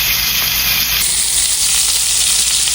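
Swedish meatballs fry in a skillet full of fat, giving off a loud, steady sizzle and hiss close to the pan that keeps going without a break.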